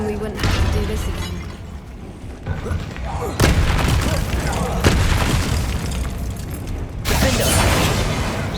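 Spell explosions from the Confringo fire spell in Hogwarts Legacy hit as sharp booms at several points, each followed by crackling debris. A continuous bed of game music and effects runs underneath.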